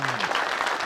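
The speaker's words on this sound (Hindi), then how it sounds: "अरे जोर से ताली बजाओ।" A crowd of onlookers at a street snake-charming show bursts into brisk clapping on request, a short dense patter of applause with a voice briefly audible at the start.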